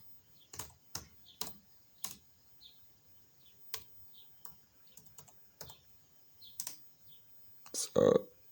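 Keystrokes on a computer keyboard as a terminal command is entered: a dozen or so sharp, close clicks at irregular spacing, fairly quiet, ending in a louder cluster of presses.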